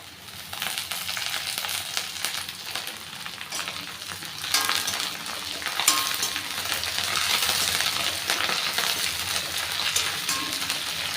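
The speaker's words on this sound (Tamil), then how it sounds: "ஆல்மோஸ்ட் பிரண்டை வதங்கியாச்சு" Pirandai (adamant creeper) sautéing with curry leaves in a pan, giving a steady, dense sizzle and crackle that swells slightly midway, with occasional stirring clinks against the metal.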